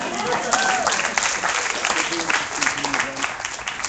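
Audience applause at a film screening for the producers of the movie, steady broadband clapping across the whole stretch with some crowd voices and cheering mixed in.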